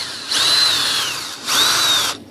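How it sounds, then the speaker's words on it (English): A power drill spins a rod chucked in its jaws for a composite sailplane wing build, two close, loud whirring bursts with a rising then falling pitch, separated by a short pause. "you can take and use the drill, chuck it into the drill"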